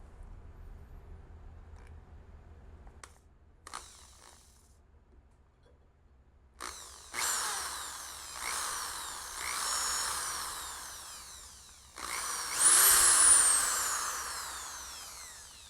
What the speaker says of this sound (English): Got a drill bit here.